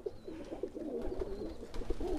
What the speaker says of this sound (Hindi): ये देखिए दोस्तों यहाँ पे ये शायद इलाहाबादी पीछे के दो कबूतर है